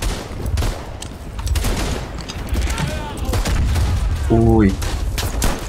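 Gunfire in the World War I shooter Verdun, rapid rifle and machine-gun shots crackling near and far in dense volleys, while a voice briefly exclaims during the shooting.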